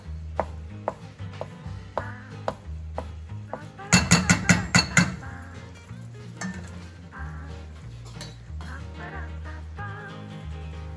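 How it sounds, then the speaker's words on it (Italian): A knife chops Brie cheese into small cubes on a cutting board for a leek risotto, steady close taps punctuated by a quick burst of loud chops, over soft background music. "togliete la crosticina, lo tagliate a striscioline e poi a dadini"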